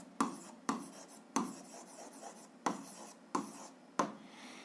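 Pen strokes on paper while a solution is written down: six distinct scratchy taps with short rubbing trails, close and quiet, spaced unevenly.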